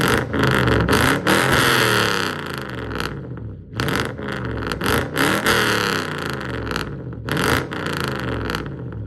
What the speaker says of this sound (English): The revs are violent and effortless, and it's just screaming, dude.